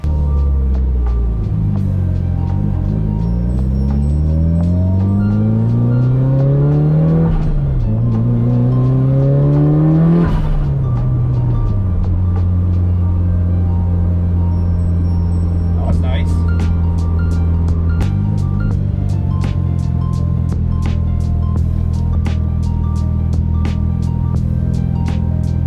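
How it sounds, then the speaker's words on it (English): A loud Mitsubishi Evo 8 engine idles and revs, its pitch rising and falling, then settles into a steady rumble, with someone talking over it. "I actually had to turn off the car because it's so loud"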